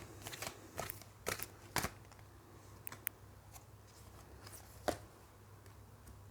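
Tarot cards are handled and shuffled in scattered crisp bursts of papery snaps and riffles, with quiet gaps and a steady low hum underneath.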